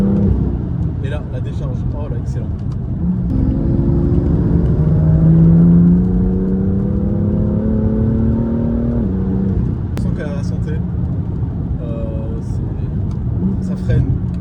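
A BMW M2 LCI with a DKG dual-clutch gearbox drives along gently, its engine droning loud and steady from inside the cabin with smooth rises in revs as someone talks over it.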